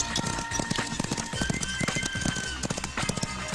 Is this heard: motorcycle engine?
no